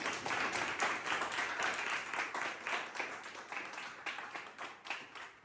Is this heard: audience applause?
yes